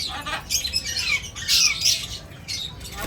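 A ring-necked parrot lets out a few harsh, close squawks in short repeated bursts, with faint background noise between the calls.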